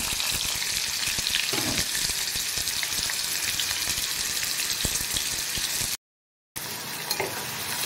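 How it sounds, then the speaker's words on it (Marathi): Finely chopped onion with curry leaves frying in a kadhai until golden for a prawn masala curry, a dense steady sizzle with faint stirring, close up, broken by a brief silent gap near the end. "कांदा आपल्याला अगदी गुलाबी होईपर्यंत भाजून घ्यायचा आहे"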